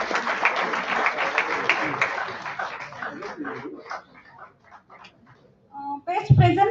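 An audience at a conference award ceremony applauds with dense clapping that gradually thins out and fades, then a few noises and voices follow.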